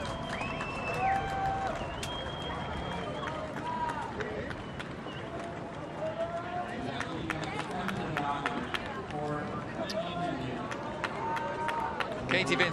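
A dense crowd cheering and shouting at the finish of the women's C1 5000m canoe final at the World Championships in Halifax, a continuous roar of voices and whistles.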